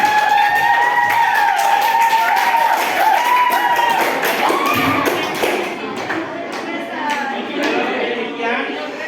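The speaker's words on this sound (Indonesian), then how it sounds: "kita tepuk tangan dulu" A crowd claps in a burst of applause that tapers off gradually, with some cheering mixed in.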